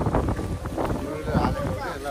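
Wind gusts buffet the microphone in the mountain village of Ghandruk during light rain, a rough low rumbling roar that surges and eases continuously.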